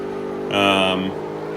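A car engine in the mobile racing game CarX Drift Racing 2 revs in one short burst that swells and drops away within about half a second, heard alongside a talking voice.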